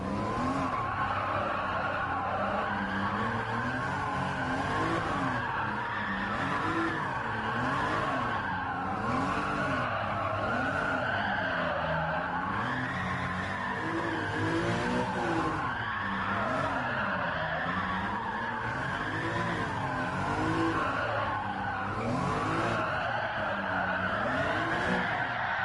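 Tires squeal continuously as a car drifts in Gran Turismo 7, with a wavering engine note rising and falling through the long slide, loud and steady with no speech.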